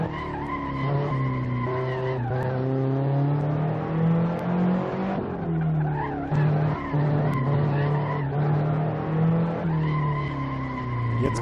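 Race car in the Assetto Corsa racing game sliding through a corner at Magione, with sustained tire skid and squeal over a loud, steady engine drone, the pitch shifting as it drifts and recovers.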